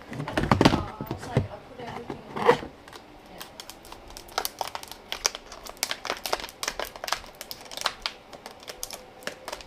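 Anti-theft plastic packaging on a Silicon Power product is cut open with scissors, giving crinkling and crackling plastic plus sharp snips and taps, loudest early on, then scattered clicks through the rest.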